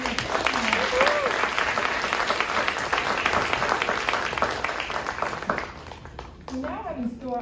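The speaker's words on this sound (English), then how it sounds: "let's give one more round of applause for his Teacher of the Year" Sustained clapping from the audience at a school promotion ceremony, fairly close and dense, tapering off toward the end as a voice begins.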